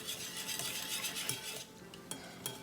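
Powdered sugar being stirred into milk for snow skin mooncake dough, a utensil scraping and clinking softly against the bowl in a steady, close-up rhythm, with a few sharper taps near the end and no talking.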